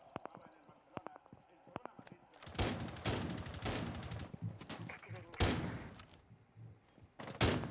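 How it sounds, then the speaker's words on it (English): Rapid gunfire from the video game Rainbow Six Siege, shots heard coming through a floor during a collegiate esports match, with loud bursts of shots and impacts, preceded by sparse sharp clicks and taps. "you can see the gunshots coming through the floor"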